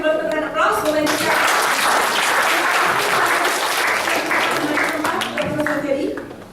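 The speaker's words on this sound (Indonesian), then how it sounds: "Kami belum berikan aplaus." Seminar audience applauding, a dense steady burst of clapping lasting several seconds at full strength before tapering slightly at the end.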